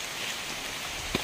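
Heavy rain pours steadily as a dense, close hiss of drops on surfaces, with one brief knock near the end and no voices.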